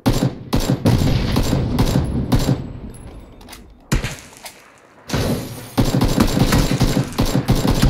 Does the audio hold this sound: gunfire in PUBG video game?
yes